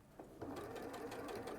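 A sewing machine stitches along fabric edges with a quiet, steady whirring hum and a rapid rhythmic needle chatter, speeding up after a brief start and holding an even pace at close range.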